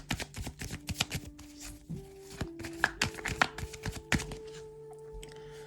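A deck of tarot or playing cards is shuffled by hand at close range, giving a run of quick, crisp riffling and tapping bursts over a faint steady background tone.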